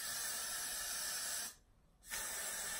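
A steady hissing spray of wig glue runs for over a second, stops briefly, then resumes in a second long, close burst.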